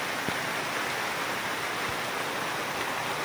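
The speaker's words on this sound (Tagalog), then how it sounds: "Sumilong po muna tayo kasi malakas na yung ulan." Heavy rain pours steadily outdoors near a grassy area, a dense, continuous wash of noise with no pauses and no voices.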